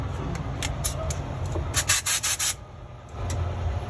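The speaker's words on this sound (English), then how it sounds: "We're gonna go ahead and buff this down a little bit." A Cummins ISX engine block surface on an International ProStar is buffed down with short, close rubbing strokes, a quick run of sanding bursts in the middle against a low background rumble.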